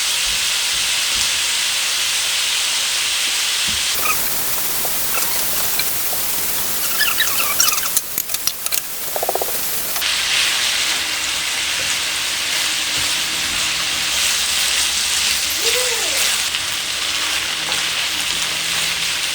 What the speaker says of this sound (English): I want to let the sausage cook about 3 minutes or until it's brown